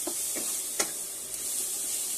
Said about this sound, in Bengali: স্বাদ মতো লবণ দিয়ে ভালো করে নেড়ে এটাকে ভালো করে ভেজে নিচ্ছি।